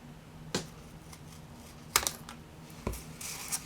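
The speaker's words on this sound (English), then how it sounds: "I will take and find my scissors, and I'll cut these ones to look like a tag." Scissors snip paper for junk journal tags in three crisp, separate cuts spaced about a second apart, close and fairly quiet in an otherwise still room.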